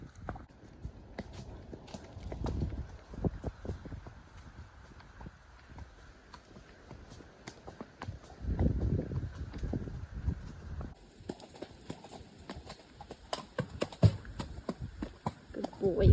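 A horse walks through autumn woods, its hooves giving soft, irregular thuds on the forest ground in a few bursts, fairly close, with faint ambient noise between steps.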